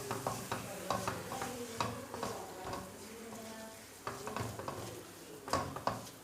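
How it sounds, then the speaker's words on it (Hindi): Besan halwa being stirred in a pan over low heat, with repeated scraping and stirring strokes in an uneven rhythm and a soft sizzle beneath, close and moderately quiet. "जल्दी जल्दी से हाथ हिलाएंगे और मिक्स कर देंगे, इसके अंदर चलाएंगे"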